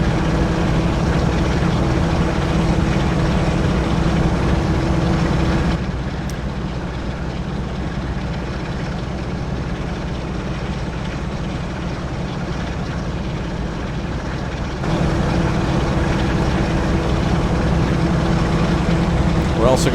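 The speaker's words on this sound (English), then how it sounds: "Really hear that engine kicking up." A historic train engine labours uphill in Train Sim World on the Manchester–Leeds route, a dense continuous rumble that drops slightly midway before building again, with speech over it.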